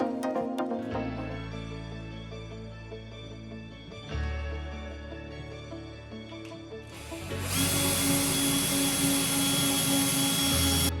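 A cordless drill bores into arcade cabinet wood on a Megacade build, in several loud whirring bursts that rise and stop, the last run starting near seven seconds and staying loud and steady to the end.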